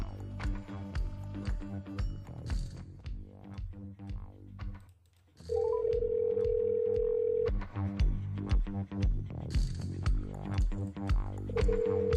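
A radio host places a live on-air call to a listener, with a steady ringback tone holding for about two seconds amid ongoing studio music and clicks, loud and close, with no talk over it.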